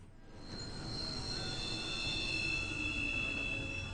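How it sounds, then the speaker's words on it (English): Train from the Final Fantasy XV video game, with a steady rolling rumble and sustained high-pitched wheel squeal that swells slightly and holds loud for several seconds, no voices. "That is a cool train, though."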